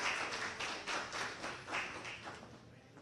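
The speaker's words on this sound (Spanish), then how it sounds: "para quien les pido un caluroso aplauso" An audience applauds at the opening of an international symposium, a modest, fairly faint patter of clapping heard from a distance that swells and fades in soft pulses without voices.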